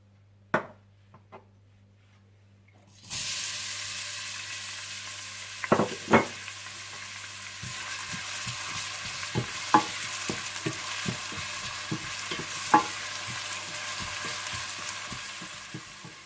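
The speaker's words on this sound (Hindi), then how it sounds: "आप ऑयल गर्म कर लीजिए और इसमें प्याज डालकर हल्के से ब्राउन कर लीजिए।" Loud sizzling starts suddenly as onions hit hot oil, a steady frying hiss with scattered spatula scrapes and taps throughout.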